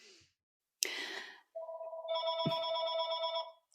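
A telephone rings with a loud electronic tone that holds steady, preceded by a brief rustle and a short click, heard indoors at close range with no talking over it.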